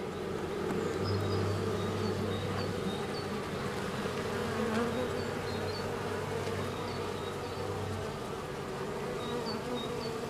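A dense, steady buzz of many honey bees swarming around a hive in calm, dry late-winter air, continuous and fairly close, with a faint low drone underneath.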